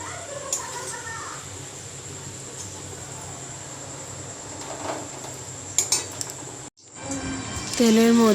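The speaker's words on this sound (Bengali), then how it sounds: "এবার একটা বাটিতে তুলে নেব ছেঁকে" Pots, bowls and metal utensils clink and scrape in a home kitchen as fried onions are strained into a bowl, with scattered sharp clinks over a low background, then a brief cut and louder clatter.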